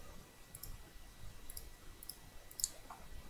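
A computer mouse clicks a few times while objects are selected in a voxel world editor, each click faint and brief over a low background hiss.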